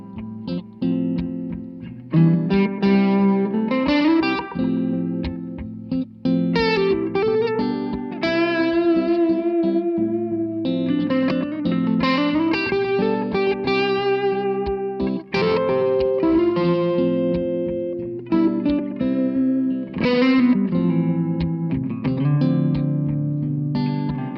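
An electric guitar plays chords and melodic lines through a Wazocraft slapback delay pedal, each note trailed by a short, quick repeat, with a slightly driven tone that plays continuously.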